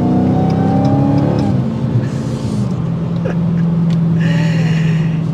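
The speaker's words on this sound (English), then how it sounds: "Now, if I want to actually give it some gas," A 2023 Dodge Challenger Hellcat accelerating hard from inside the car, its engine roaring loud and close with rising pitch, then a shift and a fresh climb as the revs build again.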